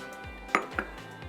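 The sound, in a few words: mixing cake batter of eggs, butter, vanilla essence, sugar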